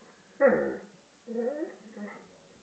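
An Airedale terrier lets out a sharp whimpering yelp, then softer whining, vocal sounds close by in a quiet room.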